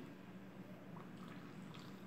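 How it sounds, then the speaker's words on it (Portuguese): Water poured into a container to dissolve homemade powdered soap, a soft close trickle and dripping running steadily at low level with no talking. "eu vou colocar aqui, ó, 500 ml de água para ele dissolver"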